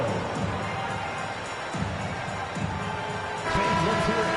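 Arena crowd cheering in a basketball video game, a steady roar that swells near the end, mixed with an announcer talking over it.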